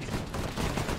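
Dense bursts of rapid gunfire in the Arma video game during a Vietnam-era helicopter landing, loud and sustained without a break.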